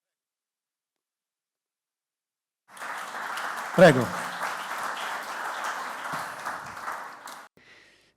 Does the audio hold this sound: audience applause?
yes